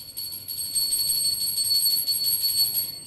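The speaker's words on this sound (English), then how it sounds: "tomorrow you start a class with this small bell" A small hand bell rung to open a class, its bright, steady ringing tone sustained through the whole stretch at moderate loudness, with no talking.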